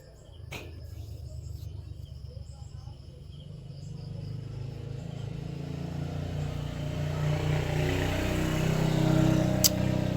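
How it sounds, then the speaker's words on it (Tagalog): Road traffic heard from a roadside after overnight rain, with a low engine rumble that builds as vehicles pass, plus insect chirping and faint voices in the background. "ang daming dumaan na sasakyan guys"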